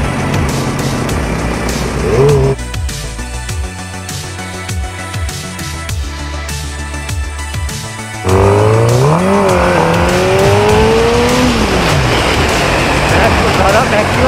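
A Suzuki GSX-R 600 motorcycle exhaust revs hard in aggressive A mode, loud and close, with rising and falling engine pitch sweeps and a steady roar underneath.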